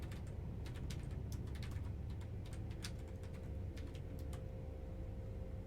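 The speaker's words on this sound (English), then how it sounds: "I'm pretty bad at typing" Fast typing on a computer keyboard during a Warcraft 3 match stream, with quick irregular key clicks close up over a steady low hum.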